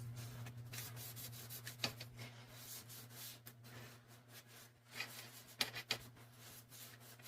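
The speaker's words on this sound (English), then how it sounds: "So I'm just going to take and clean this with a wipey." Soft, quiet rubbing and wiping strokes come in short uneven passes as a wipe cleans an Addi plastic knitting machine, with a faint steady hum underneath.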